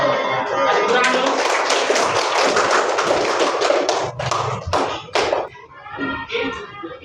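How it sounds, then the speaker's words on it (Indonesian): Classroom audience clapping after a teacher's Islamic education lesson, dense hand claps for several seconds that thin into a few scattered, separate claps, with some voices faintly mixed in. "Tepuk tangan dulu."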